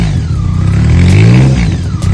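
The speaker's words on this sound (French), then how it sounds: "Pour un pot qui m'a pas coûté très cher, je trouve que le son est assez sympa." A motorcycle engine fitted with a cheap aftermarket exhaust revs up loud and close, its pitch climbing and then settling back in one deep, throaty burst.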